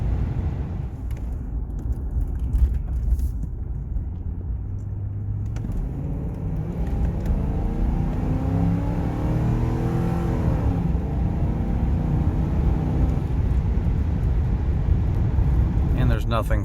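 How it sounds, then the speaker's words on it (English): A Ford Crown Victoria's V8 pulling steadily under acceleration, a low rumbling engine note that rises gradually and holds at a moderate, even loudness, heard from inside the car with no talking. "When you put your foot down, the car goes."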